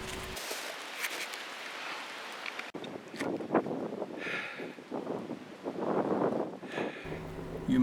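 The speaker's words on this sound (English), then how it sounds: "it's very, very windy out here today" Strong wind gusts blow outdoors in a logging area, buffeting the microphone with loud uneven roars and rustling that swell and ease over several seconds.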